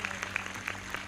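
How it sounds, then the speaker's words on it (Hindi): A church congregation gives loud applause, a brief dense burst of many hands clapping together, steady and even throughout. "जोरदार ताली बजाकर प्रभु को महिमा दें।"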